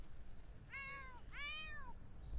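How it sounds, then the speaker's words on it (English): A cat meows twice in a video game, two clear drawn-out calls in quick succession, faint over low background noise. "You are a cute kitty, Delilah."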